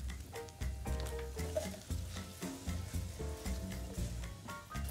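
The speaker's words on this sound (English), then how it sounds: "So the onions have started to soften. So I'm gonna throw in this first batch of cabbage." Cabbage frying in a pan with softened onions, a soft continuous sizzle with light stirring and pattering close by, along with steady tonal sounds in the background.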